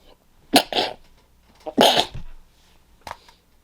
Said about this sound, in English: Yes, I'm talking about the sneezing too